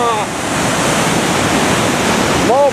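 The flooded Congburn River thunders over a damaged waterfall in woodland near Chester-le-Street, a loud steady roar of rushing water with wind buffeting the microphone and brief whistle-like tones at the start and end.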